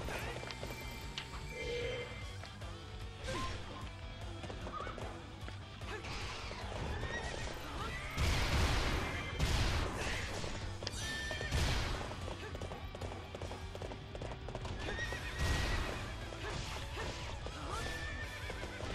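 In the Hyrule Warriors video game, the horse Epona whinnies and gallops with rapid clip-clop hoofbeats, loud whinnies rising over dense battle effects and game music while players talk.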